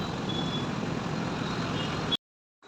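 Traffic with trucks on a busy road during a morning jam, a steady broadband engine rumble with a faint high beep, close and continuous until it cuts off abruptly.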